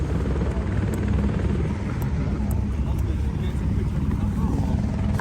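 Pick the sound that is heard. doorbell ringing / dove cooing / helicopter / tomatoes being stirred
helicopter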